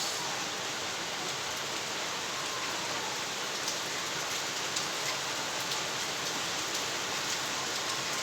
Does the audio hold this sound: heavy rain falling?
yes